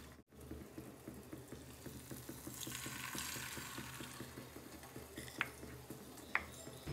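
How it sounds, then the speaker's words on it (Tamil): Chicken 65 pieces deep frying in hot oil, a steady close sizzle and bubbling that holds throughout, with a couple of faint clinks, no talking. "சிக்கன் போடும்போது பார்த்தீங்கன்னா தனித்தனியாக போடுங்க. அப்போ தான் நல்லா சீக்கிரமாக பொரியும்."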